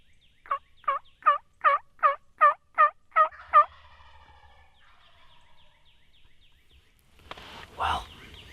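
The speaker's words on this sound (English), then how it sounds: "the first time we heard him gobble" A wild turkey gobbles in a rapid series of about eight loud, rhythmic pulses, followed by quiet and then a brief rustling burst, recorded outdoors during a Nebraska turkey hunt.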